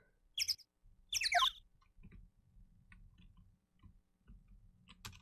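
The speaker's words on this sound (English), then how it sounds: "I don't like the bird sounds." Bird sounds in a Phoenix Wright video game, with two brief high chirping calls close together near the start, followed by faint low clicks and rumbles.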